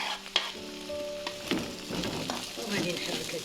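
Chinese vermicelli noodles with onion, pepper and tomato paste sizzle in a frying pan as they are stirred, soft scraping and frying crackle up close with a faint tonal hum in the background.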